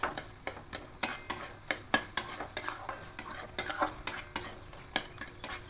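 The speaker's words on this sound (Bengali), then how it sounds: "আলুগুলো একটা সেদ্ধ হয়ে গেছে এবার একটু ঘেটে দিচ্ছি" Boiled potatoes being stirred and mashed in a pan, a brisk irregular run of sharp spatula knocks and scrapes against the metal over a faint sizzle, with no one speaking.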